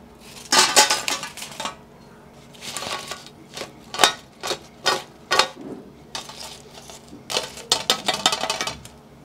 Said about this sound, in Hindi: इसकी आवाज़ सुनिए कितने क्रिस्पी करारे बने हैं